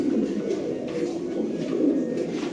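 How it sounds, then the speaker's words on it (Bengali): Pigeons coo in a steady, low, dense murmur throughout, several birds close together at a busy pigeon market where Spanish, king and dragon breeds are sold. "সেরা কোয়ালিটির একটা কবুতর।"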